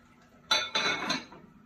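A lid set down on a cooking pot of tilapia paksiw gives two or three quick metallic clanks and rattles close by, ringing briefly before fading in a quiet kitchen.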